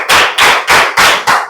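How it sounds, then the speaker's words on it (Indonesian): Five crisp hand claps in an even, quick rhythm ring out close and loud as a group applauds together. "Tepuk tangan untuk kita semua."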